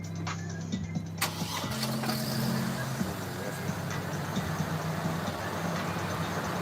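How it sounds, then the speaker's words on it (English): A pickup truck's engine cranks over and over without catching, a steady rhythmic starter whir with a few sharp clicks, loud and close, with no talking. "Let's see if this truck will start, y'all."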